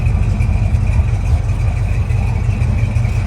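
A 1969 Plymouth Roadrunner, parked for 25 years, runs at a steady idle: a continuous low, throbbing engine rumble, close and loud, with no voices over it.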